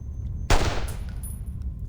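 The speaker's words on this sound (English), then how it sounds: "The gunshot finally hits true." A single sharp gunshot cracks from the video game Reverse: 1999, loud and sudden, then trails into a ringing tail and faint ambient tones.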